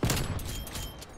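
A Kar98K sniper rifle fires in the shooter game Warzone, a sharp loud crack at the very start followed by a rumbling tail and busy in-game noise.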